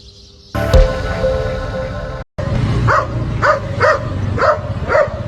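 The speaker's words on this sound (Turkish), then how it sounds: "Motokuryeye havlayan bir köpek ona saldıracağı düşünülüyor" A dog barks at a motorcycle courier, repeatedly in a steady rhythm, about five barks, over constant loud background noise.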